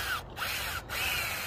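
Loud whine of a power tool running close by, briefly cutting out twice before resuming steadily.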